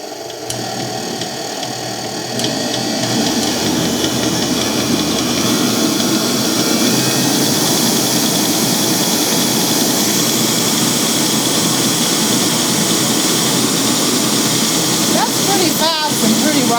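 A Globe SP05 commercial stand mixer with its paddle attachment fitted runs with a steady motor whir and hum that comes up after a brief start and holds for about fifteen seconds. A person talks over it at times.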